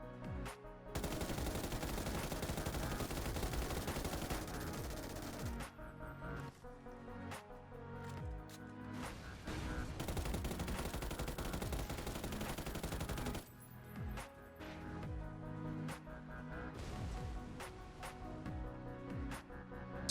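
Long automatic bursts from an MG3 machine gun fired at vehicles in PUBG, rapid continuous rattles with brief pauses and single shots toward the end, fairly loud with no talk.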